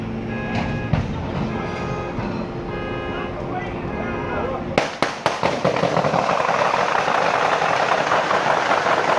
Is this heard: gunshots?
yes